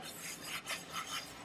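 Rasping scrub of a vegan sponge working hard against a surface, a brief run of quick back-and-forth rubbing strokes, close and fairly quiet.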